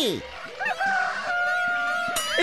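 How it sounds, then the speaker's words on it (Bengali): Jungle fowl clucking and crowing calls sound close by, harsh and repeated over a busy outdoor background. "এই বন মুরগি!"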